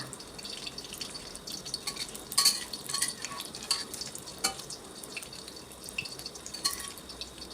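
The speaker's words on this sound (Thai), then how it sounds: "แล้วก็เจียวไข่จบค่ะ" A beaten egg frying into an omelette in a pan at home, a faint, steady sizzle with scattered light scrapes and taps of a utensil, close, with no talking.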